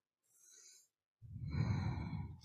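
Deep yoga breathing during a vinyasa flow: a quiet airy inhale, a brief pause, then a longer, louder exhale, close and alone.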